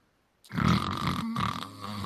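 A person imitates snoring with one loud, rough, rattling snort that starts abruptly after a moment of silence and then trails into a lower, grumbling breath.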